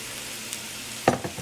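Potatoes, soy sausage or tempeh and mushrooms sautéing in a pan, a soft steady sizzle broken by a loud clack of a utensil near the end.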